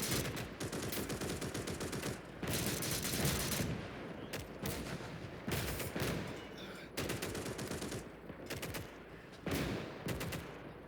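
A machine gun fires sustained rattling bursts in the WWII strategy video game Call to Arms: Gates of Hell, loud and close, with brief pauses between long volleys.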